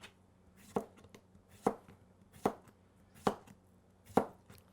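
A knife cuts an English cucumber into thick slices on a board: five crisp, evenly spaced chops about a second apart, each one close and clear over a quiet background with no talking.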